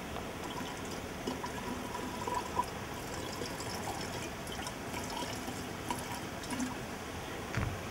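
Water pours steadily into a container already holding petrol, a soft continuous trickle and splash at close range with a faint clink near the end.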